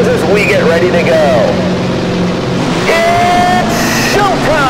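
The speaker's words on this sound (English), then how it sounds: "Listen to those engines as we get ready to go." Modified race car engines rev and idle at Millstone Park in the PC game Tony Stewart's All-American Racing, loud revving sweeps rising and falling over a steady engine hum before the start.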